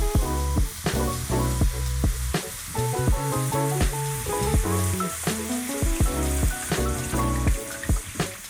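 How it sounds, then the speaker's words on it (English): Battered shrimp, dredged in flour and frying mix, deep frying in hot oil: a steady crackling sizzle running underneath loud, rhythmic music that plays throughout. "coat your shrimp into flour, then a frying mix, and straight into the oil"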